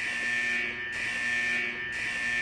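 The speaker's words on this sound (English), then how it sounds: "Right off the bat, an alarm." An alarm blares in the Fallout Equestria Remains video game, a loud, continuous electronic buzzing tone that pulses in two long cycles with brief dips, filling the whole stretch without speech.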